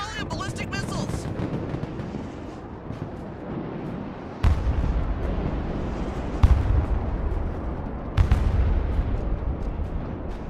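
Heavy booms and explosions from a volley of ballistic missiles in the real-time war video game Broken Arrow, several deep impacts landing over a sustained rumbling battle din, with game voice lines near the start.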